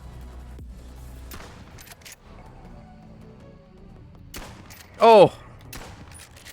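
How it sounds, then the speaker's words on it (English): A shotgun fires once in the VR video game Bonelab, one loud sharp blast late in the clip, with a man's exclamation and gameplay noise around it. "Oh, I love VR shotguns."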